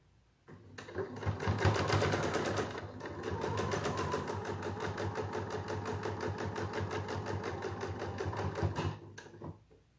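A sewing machine runs steadily for about eight seconds, back stitching along the edge of a three-layer fabric face mask, its motor hum and rapid needle rhythm close and loud with no talk.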